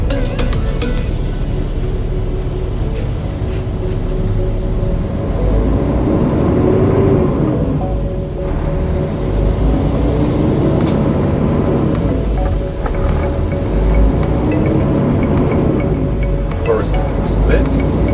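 A Peterbilt truck with an Eaton 18-speed manual transmission runs in low gear with a loud, steady diesel rumble and whine. Someone talks over the engine the whole time.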